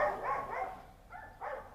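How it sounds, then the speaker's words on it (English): Dogs bark in short bursts outdoors by an overgrown yard, a cluster of barks followed by a brief lull and two more, moderately distant and fairly faint, with no talk over them. "Yeah, you can hear the dogs growling and barking at everyone"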